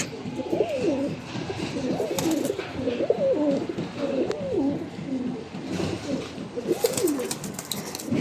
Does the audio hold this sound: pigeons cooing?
yes